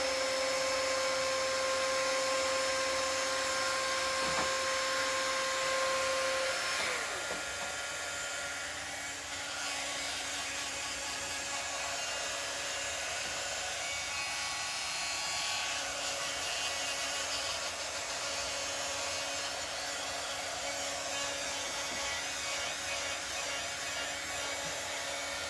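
A hair dryer blows steadily at close range to dry gel stain on a wooden pumpkin craft piece, its whirring hum continuous throughout with a slight drop in pitch partway.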